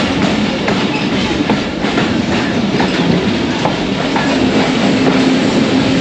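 A passenger train of the 101UP Subk Raftar stands at the station in Gujrat, Pakistan, on a foggy morning, a continuous loud rumble of railcars with faint clickety-clack wheel noise and scattered clanks throughout, no voices.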